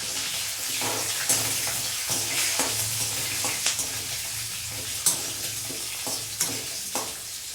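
Sliced onion fries with a small piece of cinnamon and dried red chillies over low flame, producing a continuous close sizzle broken by periodic sharp scrapes and taps of stirring.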